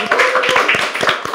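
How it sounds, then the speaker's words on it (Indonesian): A small group in a podcast studio claps hands in brief, uneven bursts, close and fairly loud. "Boleh tepuk tangan dong teman-teman semuanya."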